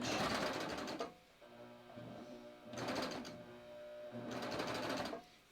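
A serger-style sewing machine stitches fabric in three bursts of fast, rattling whirring, each stopping abruptly, with a quieter hum in the pauses between as the fabric chains off.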